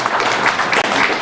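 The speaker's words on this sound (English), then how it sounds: "So a big round of applause for them." A conference audience at a startup ecosystem panel breaks into dense, loud, continuous applause, many hands clapping together in a steady wash.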